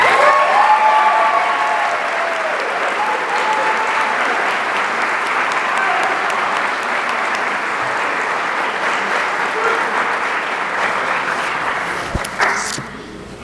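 An honors convocation audience at Southwestern College applauds outstanding scholars, sustained loud clapping from a large crowd in a hall that holds steady for over ten seconds before tapering off, with a thump near the end.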